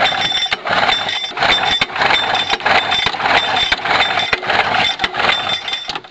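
A small engine, running on fuel fed from a bottle rigged as its gas tank, drones loudly and steadily for the whole stretch with slight surges and uneven sputters.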